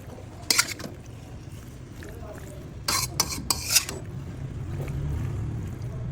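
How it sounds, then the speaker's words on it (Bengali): Cooked chicken being stirred into spicy white sauce pasta in a pan, with a few sharp scrapes and clinks of a utensil against metal over a low hum and quiet sizzle. "এখন আমি চিকেন ভালো করে মিক্স করে নেব পাস্তার সাথে"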